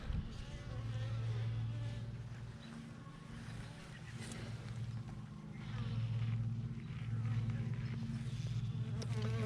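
A honeybee swarm being gathered by hand into a box hums steadily and close, a dense droning buzz with swelling and fading waves throughout.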